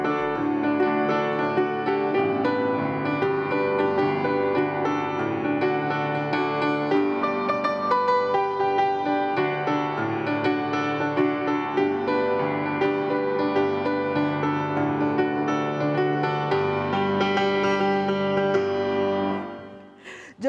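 A Merecumbé song plays steadily, a full tropical band arrangement with horns and rhythm section at even loudness, fading out at the very end with no talking over it.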